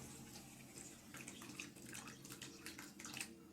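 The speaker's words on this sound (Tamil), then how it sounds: "இப்போ பால் ஆட் பண்ணிக்கலாம்." Raw milk poured straight onto grated carrots in a pan for carrot halwa, a soft continuous splashing trickle, fairly quiet and close, with no talking.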